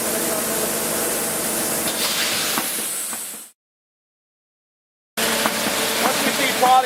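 A Blu Blaz GreenerBlast abrasive blaster set to pot fill with the ball valve open gives a loud, steady broadband hiss of rushing air for about three and a half seconds, cuts off abruptly, then resumes after a short silence.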